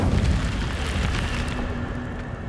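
An Incendio fire spell goes off in Hogwarts Legacy as a loud whooshing burst. It roars at the start and settles into a sustained crackling rush, with no talk.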